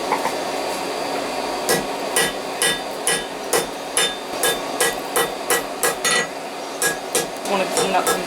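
Hot steel hammered on an anvil to spread a forged coal shovel lengthwise: a steady series of sharp ringing blows, roughly two per second, loud and close, with short pauses between groups.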